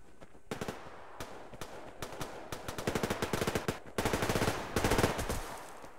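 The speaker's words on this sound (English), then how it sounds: "There's a lot of shooting going on over here." Bursts of automatic gunfire from the shooter Survarium, rapid rattling volleys at moderate distance that start sparse and grow into dense, sustained strings of shots, with no talking over them.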